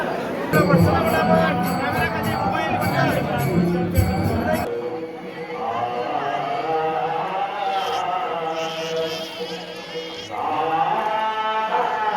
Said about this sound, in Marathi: फुल गर्दी आहे, फुल गर्दी